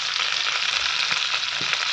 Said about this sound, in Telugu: ఇంగువ వేసుకొని తాలింపు వేసుకోవాలి